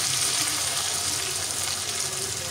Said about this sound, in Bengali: দিয়ে দিচ্ছি টক দই।